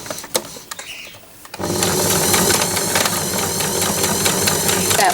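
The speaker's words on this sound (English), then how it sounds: "I'm going to turn it over and sew from the other side." A few soft handling clicks, then a sewing machine starts up and runs steadily with a fast, rhythmic mechanical chatter as it stitches a fabric cushion, close and fairly loud.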